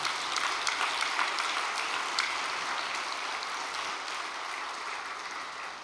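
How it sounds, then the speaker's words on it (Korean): An audience at a church gathering applauds in a dense, steady wash of clapping that fills the room throughout, fading only slightly toward the end, with no voices over it. "큰 박수로 격려해 주시기 바랍니다"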